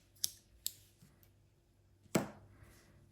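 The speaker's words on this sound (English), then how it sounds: "snip off the end" Scissors snip off the end of crochet yarn with a few sharp, quiet clicks close by, two quick ones and then a louder cut, in an otherwise quiet room.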